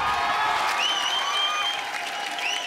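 Audience applause welcoming the gurus at a televised Hindi poetry recital show, a steady continuous wash of clapping filling the whole stretch at moderate level, with no voices over it.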